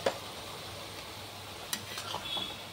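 Ground coriander and cumin go into hot oil for a vegetarian bottle gourd curry, a quiet, steady sizzle with a light clink at the start and a few soft stirring scrapes toward the end.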